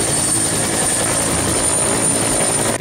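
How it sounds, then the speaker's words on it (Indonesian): Toy police helicopter sounding a steady, loud whirring electronic rotor hum with a high whine on top, running continuously for about three seconds before cutting off abruptly. "Wow, ini helikopter polisi, mantap sekali."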